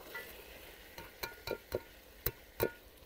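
Potato and carrot pieces tumble into tomatoes frying in a pan, then a spoon stirs them. Half a dozen sharp taps and scrapes sit over a faint, steady sizzle, close by and quiet, with no voices.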